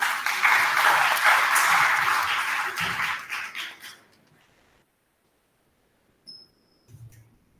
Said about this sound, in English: Ghazala Faisal with a big round of applause.